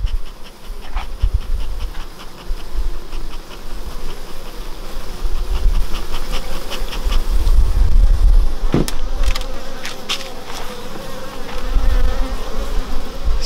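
Honey bees hum loudly at an opened hive in midsummer, a dense, close, continuous buzz with individual bees flying past, punctuated by soft knocks and handling noises.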